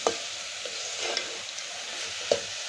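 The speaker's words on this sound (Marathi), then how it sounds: "हे पूर्ण कोरडं होऊ तोपर्यंत परतून घ्यायचं आहे." Raisins, almonds and cashews stir-fried in a pan, with a soft continuous sizzle and a few light scraping stirs, close and fairly quiet, with no talking.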